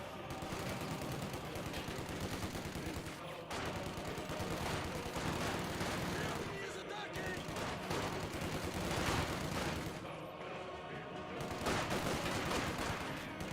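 Grenadier infantry in the strategy game Company of Heroes 2 keep up dense, sustained rifle and machine-gun fire, with overlapping shots rolling on without a break through the whole stretch and a loud battle din underneath.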